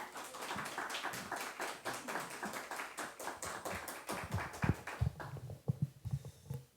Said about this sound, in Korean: 우리 나오실 때 우리 박수로 환영해 주시면 좋겠습니다.